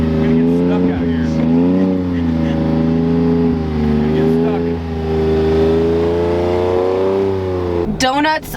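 McLaren 720S sports car on summer performance tires spinning donuts, its engine revving loud and sustained with rising and falling pitch, while people shout and talk excitedly over it; a brief sharp burst near the end.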